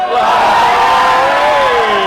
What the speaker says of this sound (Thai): ตอนนี้กองเชียร์เริ่มมีเสียงแล้วฮะ